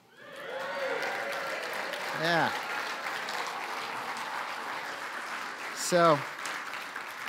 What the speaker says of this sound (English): I know you're applauding.